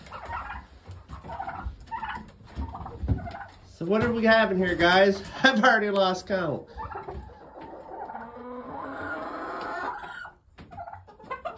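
Turkeys gobbling and roosters clucking in a cold morning coop, repeated loud close-up gobbles and bursts of calls with softer fowl noises between, while someone talks briefly over them.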